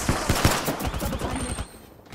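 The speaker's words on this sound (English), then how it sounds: "Opening fire." Rapid video-game gunfire in a firefight, a burst of sharp close shots in quick rhythm for about a second and a half, then tailing off into quieter background.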